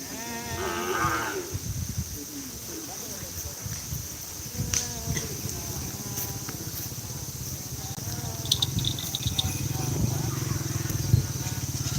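Cattle lowing at a bull-racing practice ground in Pamekasan, Madura, with deep moos and background chatter and clatter, people talking nearby.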